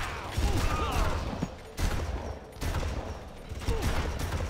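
Gunfire bursts in the Far Cry shooter game, loud and close, coming in three separate volleys with short gaps between them and no voices over it.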